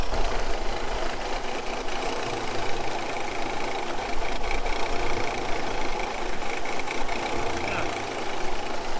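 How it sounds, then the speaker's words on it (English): A six-cylinder engine running in gear under load, a steady close mechanical drone with a fine knocking texture that holds evenly throughout, no voices. "it looks like we are firing on all 6 cylinders"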